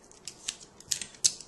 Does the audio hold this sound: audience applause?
no